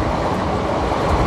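Wheels of the Prerna Express clatter along the rails from Nagpur toward Akola, a loud, dense, steady rumble heard from inside the moving train.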